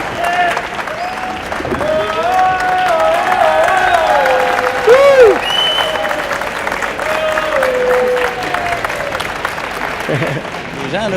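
A crowd at a Quebec auto show claps in a sustained wash of applause lasting about eleven seconds, while a voice talks over it and tonal background sound rises and falls.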